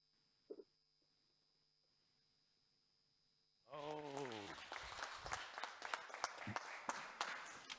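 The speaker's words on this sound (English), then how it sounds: "I hope you heard the applause." Audience applause follows a conference talk on AI ethics and emotion recognition: near-silence at first, then clapping bursts in abruptly past the midpoint and continues steadily to the end.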